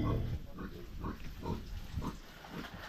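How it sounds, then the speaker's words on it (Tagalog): A native pig grunts in a series of short, low, rhythmic snorts about every half second, heard close but fairly quiet against a rough outdoor background near a farm hut. "Yan baboy oh."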